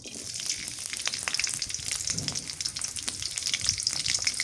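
Green chilies frying in soybean oil in a village kitchen, a steady close sizzle with crackling pops throughout, no talk.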